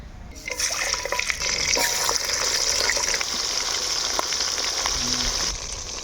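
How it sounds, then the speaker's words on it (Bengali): Steady, loud sizzling hiss of boal fish frying in hot oil, continuous throughout with small crackles and pops. "এরপরে আমরা কিন্তু বাকি মাছগুলাও একইভাবে ভাজে নেব"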